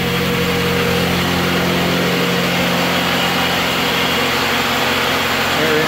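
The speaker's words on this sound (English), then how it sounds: "Engine's running." A wood gas powered engine runs steadily, a loud continuous rumble with a broad noisy roar that holds unchanged throughout, with no voices over it.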